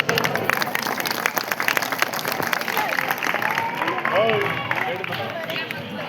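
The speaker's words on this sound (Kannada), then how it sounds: "ಇವರಿಗೆ ನಿಮ್ಮೆಲ್ಲರ ಜೋರು ಚಪ್ಪಾಳೆ" An audience at a village play in Kodiyala applauding an actor, sustained scattered clapping from a crowd, with talk and murmuring underneath.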